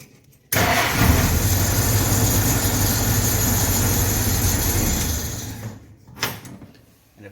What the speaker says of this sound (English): Let's see if it just fires right up.